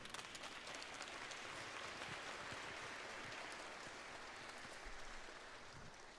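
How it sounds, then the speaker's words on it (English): At a 3rd to 5th grade school spring concert, an audience applauds in a soft, even wash of clapping that sounds distant and faint, continuing steadily with no voices. "would you please give a warm round of applause for our French piece announcer, Meghna Matakumar, to introduce our piece"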